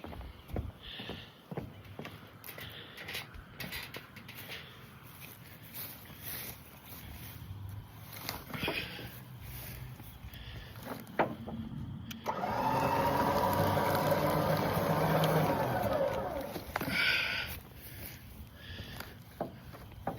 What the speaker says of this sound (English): Now it's going to winch up.